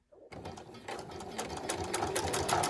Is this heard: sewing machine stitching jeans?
yes